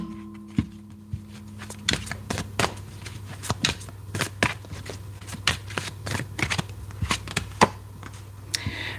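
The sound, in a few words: shuffling tarot cards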